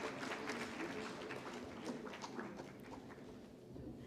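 An audience at a technical textiles conference applauds, a soft, distant wash of clapping that holds steady throughout with faint murmuring beneath.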